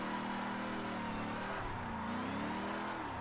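A car drifting through a corner using shift lock, weight transfer and handbrake: a steady, loud engine drone with the revs sagging and then climbing again, heard close and without any talking.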